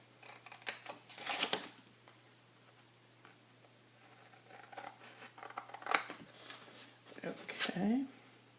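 Scissors snipping a paper soap box template, a few quick close cutting bursts in two clusters separated by quieter handling sounds, with some talking in the background.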